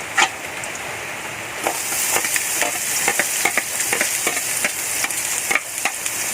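Onions frying in a pan for arroz caldo give a steady, loud sizzle, while a utensil stirs and scrapes through them in repeated sharp strokes.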